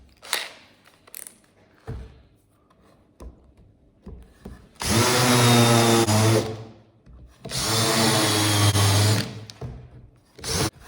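Power drill countersinking screws into a wooden jig, two long loud whirring runs of several seconds each, separated by quiet handling knocks and taps nearby.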